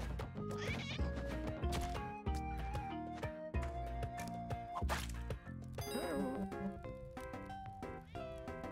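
A cat in the video game Spelunky 2 meows several times over bright game music, with dings and thwacks scattered through the busy mix.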